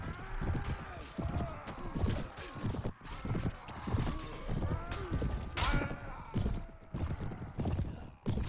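Horse hooves clip-clop in a Mount and Blade battle, a busy overlapping gallop of many hoofbeats with thuds and clashes of fighting mixed in, steady and fairly loud throughout.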